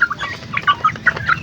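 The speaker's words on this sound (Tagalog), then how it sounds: "Giant Rooster. Ayan, oh." Clucks and crowing-like calls from a giant rooster and its young brood in a backyard, several short bursts following one another close by, with no talk.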